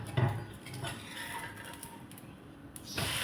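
A metal spatula clatters and scrapes against a pan as an onion and tomato uttappa is flipped, a few sharp knocks followed by softer rattles close by, with no talking.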